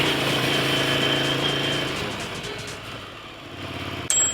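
A Triumph-style Desert Sled motorcycle engine rumbles steadily while riding off-road on Mont Lozère trails, the note softening and easing off before a sharp knock near the end; no talk over it.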